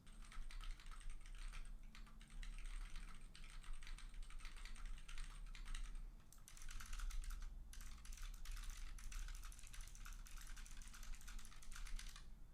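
Steady, fast typing on a Keychron K1 mechanical keyboard with clicky Gateron Blue switches, crisp keystrokes over a low hum, fairly quiet and unbroken except for a short pause midway.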